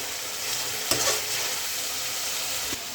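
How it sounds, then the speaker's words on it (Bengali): Spice paste of salt, turmeric and ground cumin sizzles steadily in hot oil while being sautéed and stirred for a duck curry, a close, continuous frying hiss with a couple of sharper scraping stirs. "এই তো মশলাটা আমি কষে নিচ্ছি, এখানে লবণ, হলুদ, তারপর হচ্ছে জিরা বাটা"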